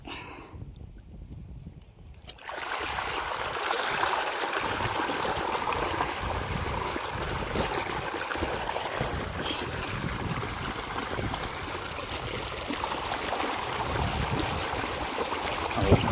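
A steady, loud rush of water from two opened valves starts after a brief quieter moment and continues unbroken, like water gushing through an open pipe.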